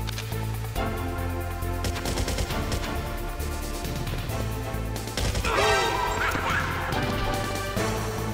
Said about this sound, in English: I think maybe I just have to use my gun here.